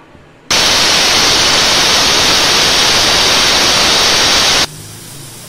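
Pressure cooker holding mutton dal with bottle gourd, loud steady hissing whistle that bursts in suddenly, holds for about four seconds, then cuts off to a quieter background.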